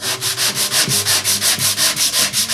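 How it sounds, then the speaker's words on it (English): Steady rhythmic sanding of a wooden speaker cabinet with coarse 80-grit sandpaper, repeated back-and-forth strokes about five per second, close and loud with no talking. "I'm going to go back in with 80 grit and get that bit of cardboard off."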